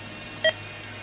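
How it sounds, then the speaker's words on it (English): A RadioShack PRO-136 scanner radio gives a single short electronic button beep, a clean tonal chirp near the device, standing alone over a faint steady background hum. "regular button beeps"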